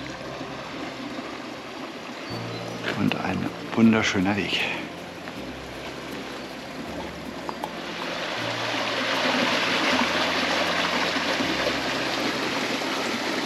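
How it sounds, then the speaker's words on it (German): A small stream running beside a pilgrimage walking path in Bavaria, heard as a soft continuous trickle and babble that swells toward the end, with someone speaking briefly over it early on. "Kleiner Bach."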